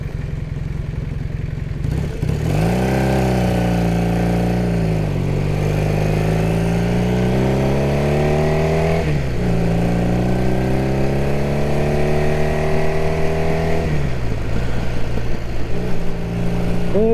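A 1978 Honda CB400 motorcycle rides along an interstate, its engine droning loudly and close, with rising revs through gear changes and steady wind rush throughout.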